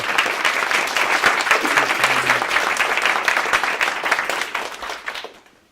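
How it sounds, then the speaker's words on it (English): An audience claps in sustained, dense applause for a speaker at a narrative medicine workshop conference in Kungälv, holding steady for several seconds before tapering off. "I think we should welcome you with a warm applause."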